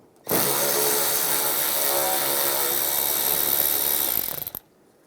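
A power tool drives a 7mm socket to back a bolt out of a 2007-2013 Chevrolet Silverado headlight assembly, giving a steady, close, loud whirring buzz for about four seconds that stops abruptly.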